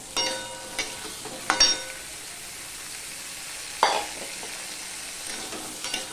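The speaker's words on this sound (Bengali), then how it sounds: "আলুটা নিয়ে ভালো করে ভেজে নেব।" Cut potatoes frying in a pan for a prawn curry, a constant close sizzle broken by a few sharp stirring scrapes.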